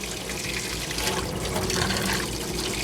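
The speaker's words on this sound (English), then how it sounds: "Now I'm going to turn on my hot water tap." Hot water runs from a kitchen tap into a sink in a steady, fairly loud gush, close by and continuous, with a slight shift in tone as the flow settles and no talking.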